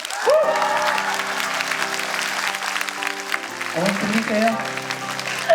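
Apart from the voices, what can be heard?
800 students cheering and applauding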